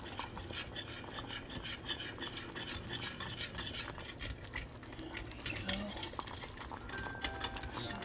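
Thyme is stirred into a pan of gravy for bangers and mash: a steady, close scraping and swishing that runs the whole time with faint clinks of a utensil, and no talking.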